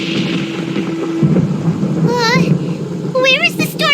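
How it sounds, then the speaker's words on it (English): A low, steady thunder rumble from a storm in the Genshin Impact video game runs throughout, while character voices speak over it in the foreground. "Paimon hears thunder!"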